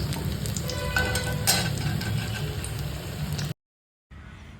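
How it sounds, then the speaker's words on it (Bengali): Soybean pakoras deep-fry in hot oil with a continuous crackling sizzle at moderate volume, heard alone and stopping suddenly near the end. "চলো ভালো করে ভেজে নিই"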